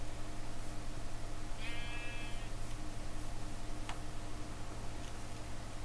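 A sheep bleats once in Minecraft, a short wavering cry in the middle, over a steady game backdrop with a soft tick-like click afterward.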